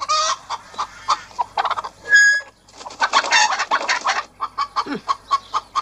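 A hen clucks in a run of short, rapid, close calls with irregular rhythm, a brief high squawk partway through and more clucking following.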